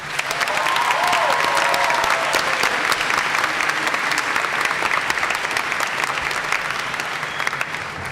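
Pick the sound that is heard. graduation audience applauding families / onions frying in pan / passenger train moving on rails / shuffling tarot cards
graduation audience applauding families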